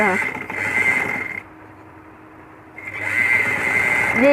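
A sewing machine stitches the corner of a baby frock, its motor whirring in two steady bursts with a short quiet pause between them.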